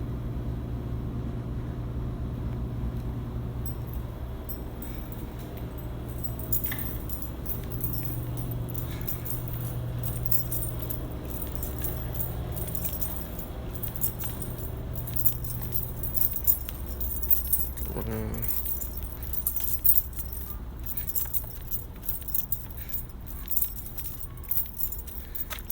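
A janitor's large key ring jangles at the hip while the wearer walks through a zoo, giving steady, light metallic jingling over quiet outdoor ambience.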